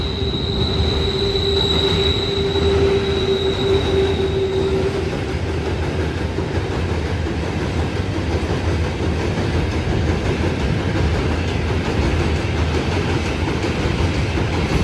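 A train runs past on a railway track near a flooded Ghaggar River crossing, a steady loud rumble of wheels with a thin squeal early on, continuous throughout without any talk.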